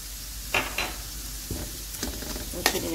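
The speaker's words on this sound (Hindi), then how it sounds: "फिर इन्हें फ्राई करेंगे।" Carrots fry in hot oil with a spoonful of sugar for Kabuli pulao, a steady sizzle broken by several sharp scraping stirs of the spoon against the pan.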